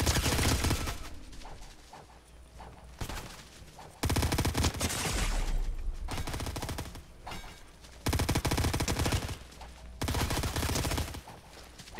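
Video game gunfire in bursts of rapid automatic shots, each burst loud and sharp, separated by quieter stretches, alone without talk.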